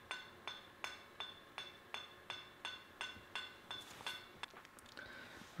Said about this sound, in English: using the ball peen, just hammer down on the face surrounding the hole